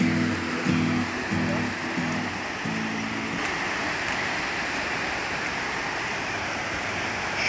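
Waterfall and spring water flowing in a park at Rio Azul, Paraná, a steady broadband rush that stays loud throughout, with a low rhythmic hum pulsing briefly in the first few seconds.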